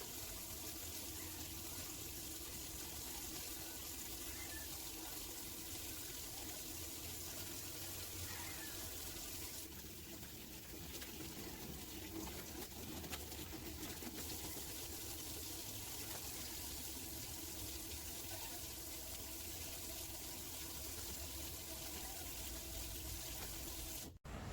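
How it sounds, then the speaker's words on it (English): Hands washed under a running tap in a clinical setting, a steady continuous stream of water splashing into a sink for about twenty-five seconds, fairly faint and without talking. "I have to perform hand washing first to deter the spread of microorganisms"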